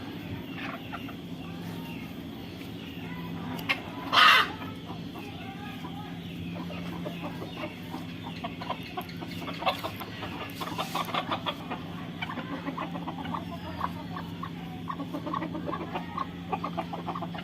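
Chickens clucking softly in a home poultry setting during fowl pox vaccination, scattered low clucks throughout with one sharp, loud squawk near the start, over quiet background noise.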